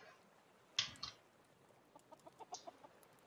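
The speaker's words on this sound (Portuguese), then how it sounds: "Ah, eu tô ouvindo a galinha, mas é dali" A chicken in the survival game Raft clucks softly in a few short, separate bursts, fairly faint and somewhat distant, with quiet gaps between the calls and no talk.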